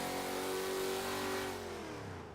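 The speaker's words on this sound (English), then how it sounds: "The second car to try and conquer the lap time of the Ford Mustang Boss 302 was this, the 1970 Buick GS X." A 1970 Buick GSX muscle car engine revs hard in Forza 7, a loud rising roar that holds then falls away as the revs drop.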